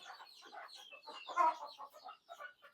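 Desi chickens clucking on a poultry farm, a quick run of soft, overlapping clucks and chatter at moderate distance, rising briefly in the middle.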